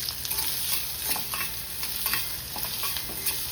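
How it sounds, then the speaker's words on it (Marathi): Onion and green chili frying in a spoon or two of oil in a pan, a steady close sizzle with scraping stir strokes throughout, no talking. "आता हा कांदा आणि हिरवी मिरची टाकते मी"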